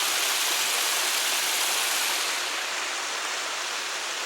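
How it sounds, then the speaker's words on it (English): A waterfall and stream in Wildwood Park, Thousand Oaks, California roar loudly and steadily nearby, a dense unbroken rush of water that eases slightly toward the end. "Water is pretty loud."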